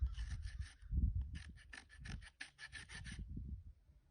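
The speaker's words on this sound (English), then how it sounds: "So I'm going to go ahead and try and rasp that down" A rasp files down a wild Mustang's hoof in quick, rhythmic rough strokes, close by and steady, with low rustling and handling noise underneath.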